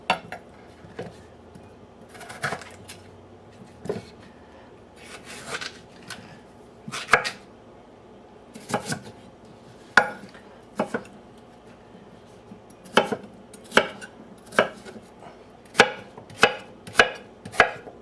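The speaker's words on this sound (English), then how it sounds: "So we whack up a couple of taters." Potatoes are cut into chunks for potato salad, a knife striking a cutting board in sharp, close knocks, sparse and irregular at first, then quicker evenly spaced chops toward the end, with no voices.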